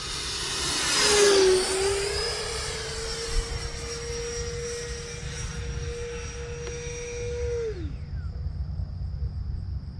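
Freewing F/A-18C Blue Angels 90mm electric ducted-fan RC jet making a low, loud pass, its whine sweeping down in pitch as it nears and then holding a steady tone before cutting off abruptly.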